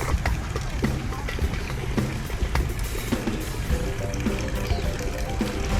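Water runs steadily from an outdoor drinking fountain in Italy, a close, constant splashing gush with no break throughout.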